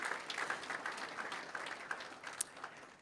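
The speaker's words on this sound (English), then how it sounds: "that deserves a big round of applause." Audience applause at an award presentation honouring rugby league player James Tedesco, a soft, distant patter of clapping hands spread evenly across the whole stretch.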